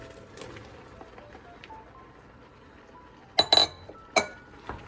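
Bottle gourd stirred in a pan with metal utensils: faint scraping at first, then a few bright clinks of metal against the pan in two quick clusters and a final tap, close and quiet.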